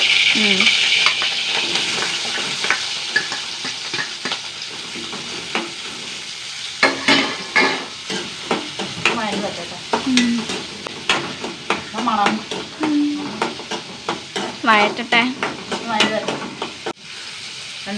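Small shallots and garlic sizzling and frying in hot oil in a pan, with repeated scraping and stirring strokes of a spoon against the metal over a steady crackle.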